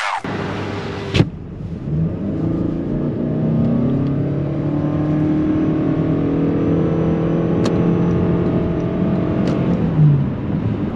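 Toyota Crown 2.5 hybrid crossover at highway speed, a steady road and engine drone with a rising tonal whine from the hybrid drivetrain, heard from inside the cabin with no one talking.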